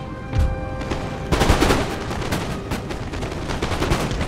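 Musket volleys from Napoleon: Total War crackle in a dense, rolling fusillade, with a sharp crack near the start and then sustained overlapping gunfire and booms filling the battlefield.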